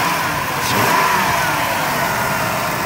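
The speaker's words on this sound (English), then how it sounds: "Let's pop the hood so you can listen to it run." A van's 3.8 V6 engine runs with the hood open, a close, loud, steady mechanical hum with a slight rise in revs partway through, continuous and without voices.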